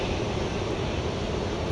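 A Boeing 737 Max 8 airliner takes off from Dallas Love Field, its engines producing a steady, broad roar that holds at an even level throughout without any voices.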